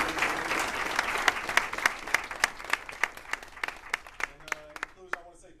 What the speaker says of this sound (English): So we gotta give a round of applause to him for his hard work